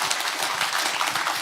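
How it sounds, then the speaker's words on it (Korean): Audience applause at a book concert event in Korea, a dense steady wash of many hands clapping together, loud and continuous throughout with no talking over it. "박수 한 번 부탁드립니다."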